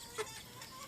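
A farmyard rooster gives a single short cluck up close, rising briefly over quiet background while hens feed nearby.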